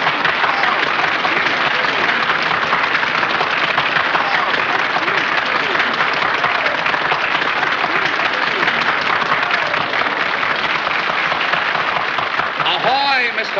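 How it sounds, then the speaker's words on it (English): A theater audience applauds in a dense, sustained wash of clapping that runs loud and unbroken throughout, with a brief tonal sound near the end. "the audience is now applauding you"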